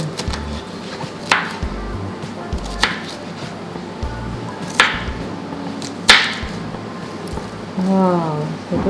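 A knife chops cabbage on a cutting board, with a series of sharp, separate cuts spaced about a second apart, close and clear over low room hum, and a voice speaks briefly near the end.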